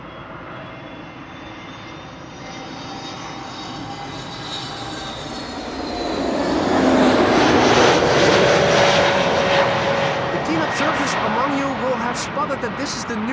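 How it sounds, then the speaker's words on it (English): An Airbus A321neo airliner arrives at Amsterdam Schiphol, its engine roar swelling from a distant whine to a loud, close rush that lingers as it passes, with commentators talking over it. "we'll also get to see another A321neo arriving from Marrakesh in Morocco"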